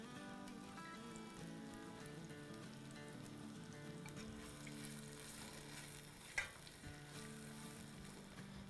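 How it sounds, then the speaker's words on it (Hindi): Chicken pasanda masala fries in oil with yogurt in a pan, giving a steady, soft sizzle throughout with a single brief clatter partway through; no talking. "तो अब हम थोड़ा सा और दही डाल के भूनेंगे"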